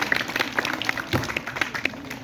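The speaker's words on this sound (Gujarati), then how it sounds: "ફરી એક વખત દાતાશ્રીઓ માટે તાળી વગાડશું." An audience at a school Republic Day gathering claps for donors, a brisk, uneven patter of many hands ringing out close and steady without pause.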